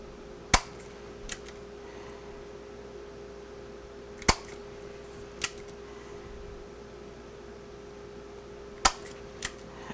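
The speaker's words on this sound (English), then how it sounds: "I'm going to take my 1/16 inch hole punch, and I'm going to pierce holes here" A 1/16 inch hole punch pierces paper with three sharp, crisp snaps spaced several seconds apart, each followed by a fainter click, over a quiet steady room hum with no talking.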